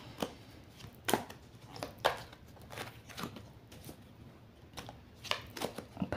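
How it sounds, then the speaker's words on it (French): A deck of playing cards being shuffled by hand at a table, with repeated crisp riffling bursts and soft slaps spread across the stretch, close and fairly quiet, with no talking. "Le temps que je batte les cartes"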